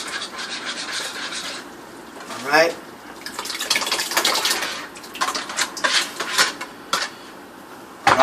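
Sauce pours into a cooking pot for baked ziti with wet splashing and sloshing, close and fairly loud, mixed with scraping and clinks of the pot while a person speaks briefly.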